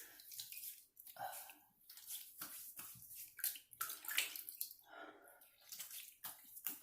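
A Fatip Lo Storto open-comb slant safety razor rinsed under running water, with irregular splashing bursts and gurgles that stop and start, close and moderately quiet.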